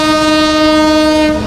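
A train on the Sri Lanka tea railway at the Nine Arch Bridge in Ella sounds its horn, a loud sustained near blast.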